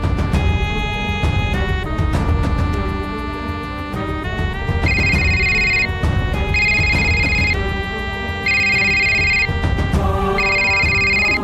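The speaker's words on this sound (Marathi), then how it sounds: "गौरीच्या नवऱ्याचा फोन" A phone ringtone plays in repeated bursts of a bright electronic melody over background music, loud and close.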